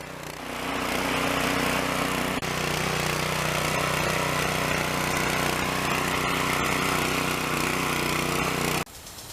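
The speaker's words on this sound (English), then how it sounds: "This old tiller, I haven't seen it work like this in years." An old rear tine tiller fitted with a new Harbor Freight engine runs continuously, a steady loud mechanical engine drone with rough churning texture lasting about nine seconds before cutting off.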